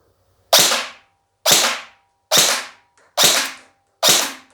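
Five sharp shots from a Specna Arms RRA SA-C10 airsoft rifle during a field test, evenly spaced about a second apart, each a crisp crack with a short decaying tail against near silence.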